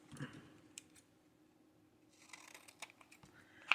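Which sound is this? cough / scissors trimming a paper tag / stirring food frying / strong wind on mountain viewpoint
scissors trimming a paper tag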